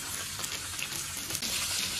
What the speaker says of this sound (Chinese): 把这个料下锅， 必须要煎啊！